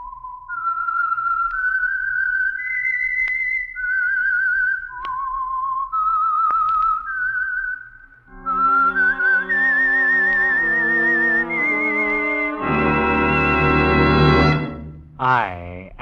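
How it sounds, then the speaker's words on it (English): A loud, clear solo whistled signal tune opening an old radio drama, a slow eerie melody of sustained rising and falling notes, followed by orchestral music swelling underneath and a final sharp rising flourish. "That whistle is your signal for the Signal Oil Program"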